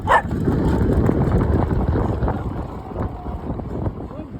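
Stray dogs barking outdoors, a few sharp barks over heavy wind buffeting the microphone, with a voice talking briefly.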